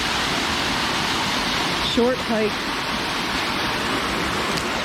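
A small waterfall on Tonto Creek gives a steady, broadband rushing hiss of falling water that fills the whole scene, with a person speaking briefly over it midway.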